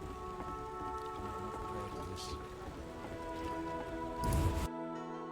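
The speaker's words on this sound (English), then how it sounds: "It's raining." Steady rain patters on a surface throughout in The Witcher video game, with a low background hum, then cuts off abruptly near the end.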